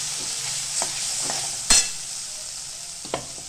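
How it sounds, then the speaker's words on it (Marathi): Chakvat greens tipped into a frying pan and stirred, giving a steady close sizzle with a few sharp scrapes and clunks of the spoon against the pan; no one talks. "आता हे आपण भाजी टाकतोय।"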